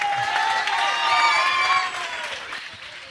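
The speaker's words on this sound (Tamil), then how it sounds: "கைத்தட்டு கொடுப்போம்." Audience applause at a Tamil Christian debate event, a burst of clapping with bright tonal ringing over it that fades gradually over a few seconds.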